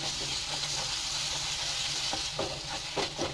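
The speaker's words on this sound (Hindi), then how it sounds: "देखिए ये मसाले कितने अच्छे से भून रहे हैं।" Spices and tomato sizzle steadily in a pan for a stuffed bitter gourd filling, a continuous close frying hiss broken by a few soft stirring scrapes toward the end, with no talking.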